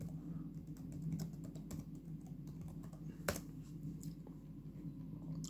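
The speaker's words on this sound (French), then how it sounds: "On va taper Baofeng Antenna." Close, rapid typing on a computer keyboard, with a steady run of light key clicks and one louder keystroke, under a low hum, with no talking.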